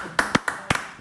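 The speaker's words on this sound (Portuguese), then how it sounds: "Palmas!" A handful of sharp, scattered hand claps ring out close by in a TV studio, quick and uneven rather than a full round of applause.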